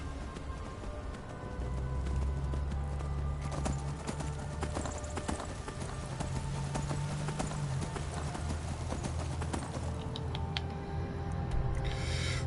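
Steady clip-clop of horse hooves trotting at a brisk, regular rhythm in the video game Skyrim on PlayStation 4, with a faint whinny and snort along the way.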